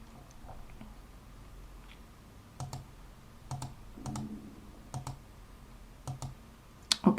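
A computer mouse clicks sharply while a planner is being edited in Canva, a scattered run of close, quiet clicks that sometimes come in quick pairs against a soft background hiss.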